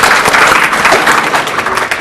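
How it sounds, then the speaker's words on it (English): Audience applause at a real estate association event, a dense, steady wash of clapping from a sizeable crowd that carries evenly through the whole moment. "I was hoping for applause"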